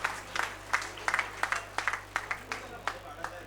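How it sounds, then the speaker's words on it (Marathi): Sparse, faint clapping from a small audience at an anniversary celebration, a few distinct uneven bursts of hand claps over a low steady hum. "उत्साहाने मोठ्याने टाळ्यांचा गजर होऊ द्या."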